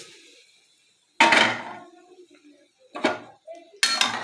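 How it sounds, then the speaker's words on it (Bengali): A spoon stirs milk with bay leaves and cardamom in a pot, giving three sharp metallic clinks and scrapes against the pot with short quiet gaps between them. "তো আমি যে ভালো মতো করে এখন নাড়াচাড়া দিয়ে নিই"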